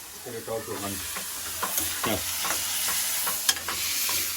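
Potatoes, a special variety brought from China, sizzle and crackle in a pan while being stirred, with scraping clicks and a brief faint voice early on over the steady frying hiss.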